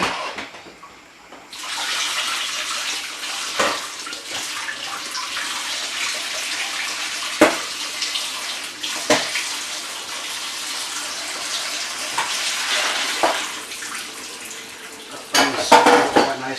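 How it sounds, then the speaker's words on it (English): Water from boiled paneer is poured off into a kitchen sink, giving a steady splashing rush that is broken by sharp metallic knocks of a pot and utensils, with more clattering near the end. "So now that paneer that we had in that water, I'm just going to drain that."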